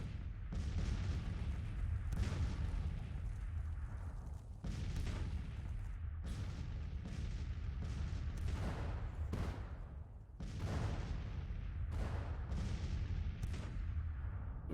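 Cannon artillery fire in the Civil War strategy game Grand Tactician, a continuous run of heavy booming shots, some near and loud, others overlapping in distant rumbling volleys.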